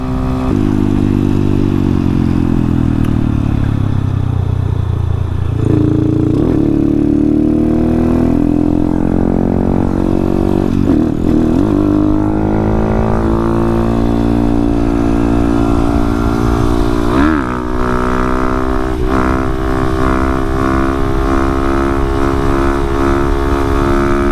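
A Honda Grom motorcycle is ridden hard, its loud, close engine rising and falling through the gears. Steady wind and road rumble run beneath it.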